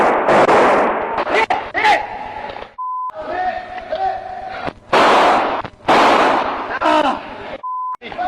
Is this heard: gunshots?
yes